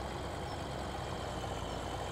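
A tractor engine idles in Farming Simulator 17 with a faint, steady low rumble and no changes in pitch.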